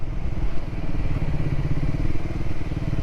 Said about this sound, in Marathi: म्हणजे मी बाईक स्वतः चालवत